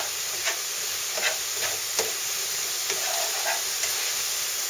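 Chili mixture frying in hot oil in a pot: a steady close hiss of sizzling with scattered soft pops and crackles, and no voices.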